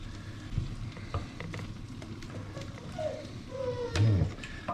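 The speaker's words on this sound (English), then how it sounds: "Stir, stir, stir." An eggplant and tomato dish frying in a pan and being stirred, with a steady low sizzle and scattered scraping knocks of the utensil against the pan, growing a little louder near the end.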